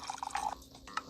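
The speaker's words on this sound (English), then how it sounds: "Pour coffee." Coffee pouring in the Papa's Pancakeria cooking video game, heard as a quick series of bright, bubbly liquid-drip effects lasting about a second at moderate loudness.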